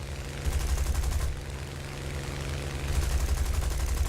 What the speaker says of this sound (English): Wasting my machine gun ammo now.